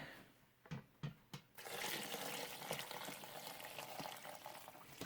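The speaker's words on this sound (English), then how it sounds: "I'm going to put the rest of the broth in there" Broth poured from a container into a pot of ground beef and mushroom soup, a few soft clinks and then a steady splashing, gurgling stream lasting several seconds, close and fairly quiet, with no talk.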